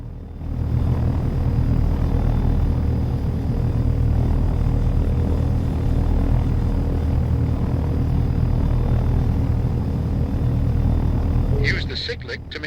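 A helicopter in the game Take On Helicopters lifts into a hover with a loud, steady rotor and turbine drone throughout, while a voice speaks briefly near the end.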